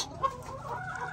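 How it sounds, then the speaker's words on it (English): Backyard chickens, set up for winter with a heat lamp, cluck softly and briefly at a faint, quiet level. "chickens ready for winter."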